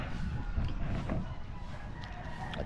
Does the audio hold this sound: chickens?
yes